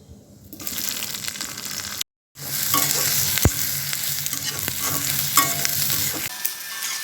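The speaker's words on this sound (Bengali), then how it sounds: "অল্প তেলে প্রথমে একটু পাঁচ ফোড়ন দিয়ে দেবো" Panch phoron spices crackling and sizzling in a little oil for a pabda fish curry, a close, steady fry with stirring and a few sharp clinks, after a brief silent gap.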